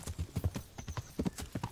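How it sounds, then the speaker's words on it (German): A fast horse gallops in Kingdom Come: Deliverance, its hooves pounding out a close, loud, rapid rhythm of paired thuds that repeat evenly throughout, with no speech over it. "der ist so schnell, der Pegasus, das ist der Hammer. So ein schnelles Pferd."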